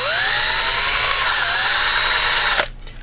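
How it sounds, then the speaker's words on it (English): A power drill fitted with a handle-less reamer whines loudly and steadily as it bores holes in a quadcopter frame, its pitch wavering slightly under load before cutting off abruptly near the end. "this is a reamer that I took the handle off of and chucked it in a drill, and this is the way I drill all the holes out"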